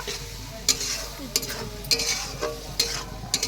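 A paste of cumin, ginger, garlic and green chilli sizzles in a pan while being stirred, with a low steady fry and short scraping strokes of the spoon every half second or so.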